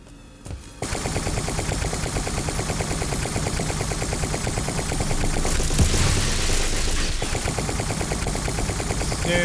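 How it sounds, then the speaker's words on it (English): Loud, continuous rapid automatic gunfire in a video game, sustained for several seconds after a brief quiet start with no pauses, and no voices. "Ow, he's shooting me."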